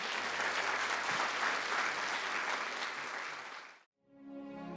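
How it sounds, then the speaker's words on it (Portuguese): A church congregation applauding during a Portuguese-language service, a dense, loud wash of clapping sustained for nearly four seconds before cutting off abruptly, followed by a brief quiet and a fainter tonal sound. "Vamos aplaudir o Senhor,"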